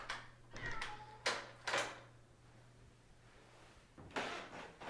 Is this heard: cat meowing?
yes